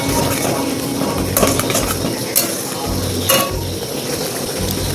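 A spice paste fries in a pan for a vegetarian aloo dum while a utensil stirs it steadily. A continuous sizzle runs throughout, with a few sharp metallic clinks against the pan.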